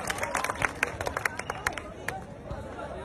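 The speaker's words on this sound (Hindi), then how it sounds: "जोरदार तालियां बजा करके" A crowd at a Haryana political gathering claps hard, a dense burst of hand claps mixed with crowd noise and babble.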